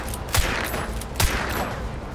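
Gunfire in the swamp shooter Hunt: Showdown, two sharp booming shots about a second apart over a dense, noisy background.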